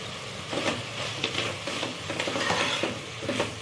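Mint leaves sizzle in oil while being stirred in a pan for a vegetable pulao, a dense steady frying hiss with repeated scraping strokes, close up and without speech.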